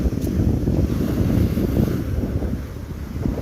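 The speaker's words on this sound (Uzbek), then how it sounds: "Bu to'lqinga o'ynashini qarang." Sea waves washing on the shore under strong gusting wind buffeting the microphone, a loud continuous roar with no voices.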